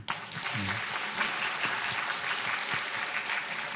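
Church congregation claps in steady, dense applause filling the hall, fairly even throughout with a few voices mixed in.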